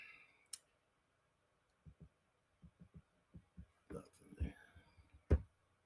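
Several soft computer mouse clicks, spaced irregularly, sound while a page is scrolled down, with quiet breathy voice noise around them.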